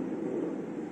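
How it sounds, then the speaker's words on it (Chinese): Prop-made thunder effect in a radio-station sound demonstration: a dense, steady low rumble that rolls on without a break for about a second, fairly quiet and with no voices over it. "下大雷雨的时候就会有个打雷的声音啊，我们这个打雷的声音哦"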